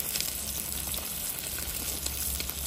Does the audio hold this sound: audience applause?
no